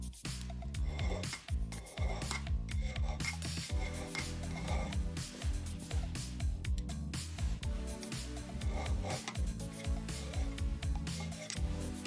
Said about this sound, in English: We're going to keep filing until this is one single facet all the way across.